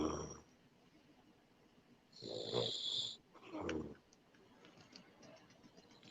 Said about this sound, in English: And I see Hector snoring a little bit.